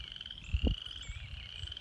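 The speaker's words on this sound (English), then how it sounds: "Frogs are making a lot of noise down in the pond." Frogs croak from a pond outdoors, a few low guttural croaks at moderate distance over a steady high-pitched chorus of insects or peepers.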